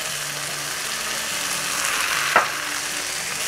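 A cauliflower and green pea curry gravy fries in a pan with a steady, close sizzle. A single brief tap or clink comes partway through as chili powder is added.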